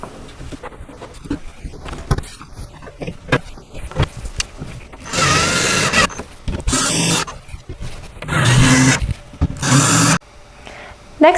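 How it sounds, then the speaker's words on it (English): Screws being driven into the side panels of a Badger Basket three-bin stackable storage cubby, with several sustained whirring bursts of a power driver between quieter handling clicks and knocks, close by. "So let's get these 4 screws into place."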